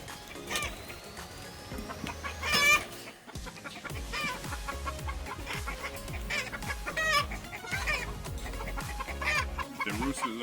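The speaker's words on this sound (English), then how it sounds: "The roosters are going crazy outside too." Roosters outside cluck busily and repeatedly in a dense, agitated chorus, with a few louder squawks standing out among the steady chatter.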